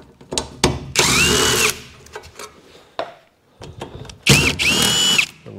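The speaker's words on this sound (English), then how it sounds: "we've got a few screws in here that need to come out first" A power drill unscrews fasteners from the window of a Dorsey trailer used as the KITT hauler, loud close whirring bursts, two long runs with rising pitch, separated by clicks and handling knocks.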